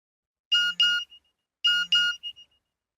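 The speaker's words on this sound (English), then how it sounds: "My mobile phone beeped." A mobile phone gives two short pairs of bright electronic chime tones, each double beep followed by a faint trailing blip, clear and isolated against silence.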